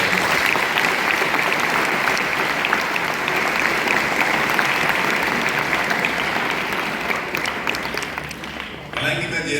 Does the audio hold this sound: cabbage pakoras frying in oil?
no